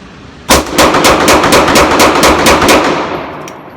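A Dan Wesson Valkyrie Commander 9mm pistol fires a full magazine of HST ammunition, about ten loud, sharp shots in quick, even succession, with the reverberation fading after the last one.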